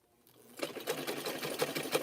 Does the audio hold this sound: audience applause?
no